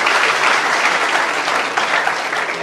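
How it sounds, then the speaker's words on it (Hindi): An audience at a college annual prize distribution programme applauds, a dense, continuous wash of clapping at steady volume throughout, with no voices standing out. "आप चाहो तो ताली जरूर बजा सकते हो"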